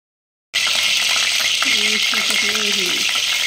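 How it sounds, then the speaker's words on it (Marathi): A mixer grinder blends whole spices for a crab curry: three cloves, three black peppercorns, a cinnamon stick and half a star anise. A loud, steady, harsh motor whir starts abruptly and runs continuously, close by, with no talk. "आता हा सगळा मसाला मी कालवणासाठी वाटून घेते"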